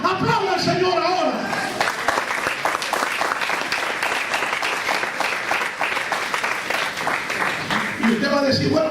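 A church congregation claps together in sustained applause, dense and steady hand-claps filling the room for several seconds, with a preacher's voice heard at the start and end.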